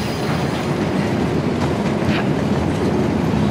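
A moving train in the video game Uncharted: The Lost Legacy gives a loud, steady rumble and rattle of rail cars, with clickety-clack of wheels on track running continuously with no pauses.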